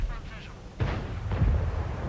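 A tank cannon fires in World of Tanks with a sharp heavy boom, followed by rumbling after-effects and background battle noise.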